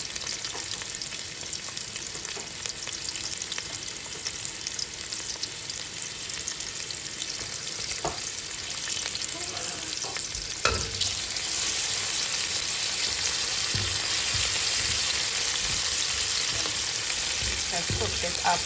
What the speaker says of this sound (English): Onions, I want this to fry up.